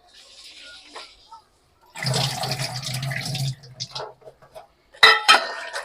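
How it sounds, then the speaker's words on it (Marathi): Water splashes and sloshes in a metal pot as items are rinsed, with clinks of produce against the vessel and brief pauses between bursts. "हे सगळं दोन तीन वेळा पाण्याने स्वच्छ धुवून घेतले पुन्हा एकदा धुते"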